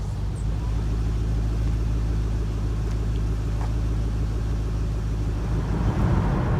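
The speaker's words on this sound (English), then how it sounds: "Let's see what it is while we're driving." Ford Mustang GT/CS fitted with Borla Touring axle-back exhaust, heard from inside while driving: a steady low drone under road noise, fairly quiet and even throughout.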